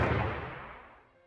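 A single heavy impact from a Saber turret in a modded Halo 3 game, a loud boomy burst that rings out and fades away over about a second, with no voices.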